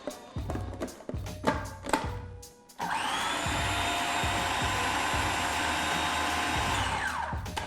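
A food processor blitzes Thai fish cake mix: rapid knocking and tapping first, then a steady, loud motor whir that runs without a break to the end.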